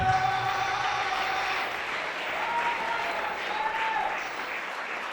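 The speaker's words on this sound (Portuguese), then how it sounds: "Você pode aplaudir ao Senhor." Congregation applauding in a church during a Pentecostal-style service in Osasco, steady dense clapping throughout with a faint held tone running underneath.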